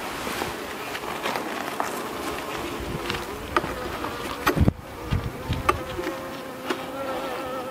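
Honey bees swarm around open hive frames outdoors, a dense, close, continuous buzzing drone with light knocks and handling noises of the frames mixed in.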